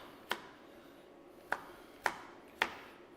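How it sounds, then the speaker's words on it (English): Four crisp, separate knife strokes chop beetroot on a cutting board during home cooking, spaced irregularly against a quiet kitchen background with no talking. "I think we have done all of our chopping."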